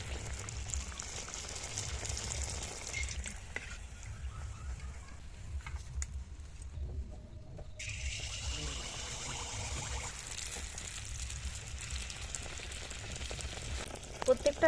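Poa pitha batter frying in hot oil, a steady soft sizzle and bubbling that runs throughout, with a brief quieter gap midway.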